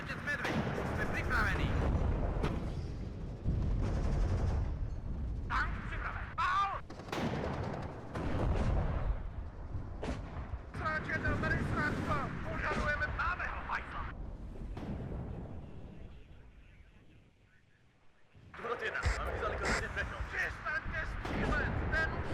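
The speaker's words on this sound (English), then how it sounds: "If I can engage that out of range, actually, with a machine gun, I should." Machine gun fire and heavy battle noise roll through the real-time strategy game WARNO, dense continuous booms and bursts filling most of the stretch, fading briefly before surging back, with a voice talking throughout.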